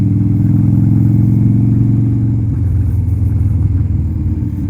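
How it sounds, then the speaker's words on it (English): A 1987 Harley-Davidson FXRC engine rumbles loudly and close while riding at low speed, a deep, steady throbbing drone that shifts slightly partway through. "This bike sounds great."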